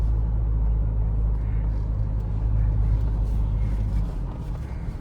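Mahindra Scorpio N cruising in fourth gear on a single-lane road, a steady loud low engine and road rumble throughout with tyre noise, no voices.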